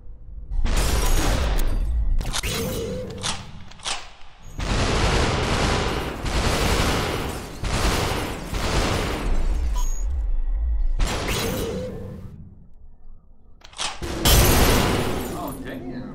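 Rapid gunfire and crashing impacts burst out in the virtual reality shooter SuperHot VR, in loud clusters broken by short pauses, with a player's voice talking over and between the shots.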